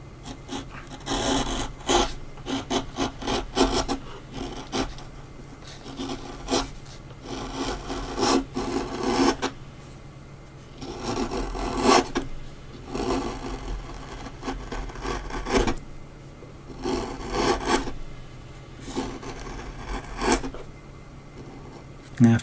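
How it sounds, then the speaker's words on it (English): A carving tool bites into wood as the background of a dragon relief is cut away, giving repeated scraping, rasping strokes in irregular bursts, close and moderately loud, with pauses between cuts. "when you have to take the background off and you're cutting wood like that, which is just such a nice sound"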